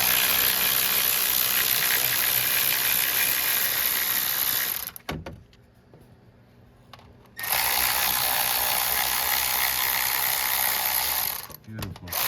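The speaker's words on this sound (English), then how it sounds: "Now I'm going to remove them with the impact." Impact wrench running on the aluminum-threaded alternator bolts of a Dodge Caravan, a loud sustained mechanical whirring burst, a brief pause, then another long run and short final bursts, close up.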